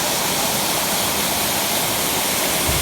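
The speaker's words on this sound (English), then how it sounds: "And you can hear the water voice." Rushing mountain water in the Himalayan range, a loud, unbroken roar like a waterfall or fast stream heard close by, steady throughout with no voices.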